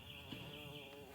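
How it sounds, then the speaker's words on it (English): Bees buzzing around a campsite on the Appalachian Trail, a faint, steady insect drone that stays close and continuous through a short stretch. "bees that are currently buzzing around me"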